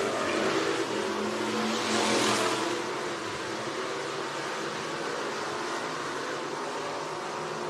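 Bomber race cars running on a dirt track at Penton Raceway, a dense, loud roar of several engines blending together, swelling briefly near the start and then holding a steady wash of noise.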